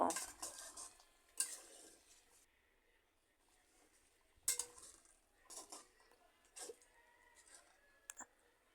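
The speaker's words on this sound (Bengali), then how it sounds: "এভাবে আমি আরও কিছুক্ষণ লাড়িয়ে চাড়িয়ে রান্না করব" Spoon scraping and clinking in a pan while egg curry with coriander leaves cooks, a few sharp metallic knocks spaced out over a quiet background.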